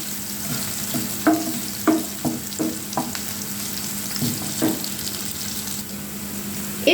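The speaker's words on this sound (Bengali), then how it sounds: "প্রায় 2 মিনিটের মতো এটা আমি ভাজবো, যতক্ষণ পর্যন্ত পেঁয়াজগুলো বাদামি না হয়" Onions frying in a pan until brown for a tomato boal fish curry, a steady close sizzle broken by a run of quick scraping stir strokes, with no talking.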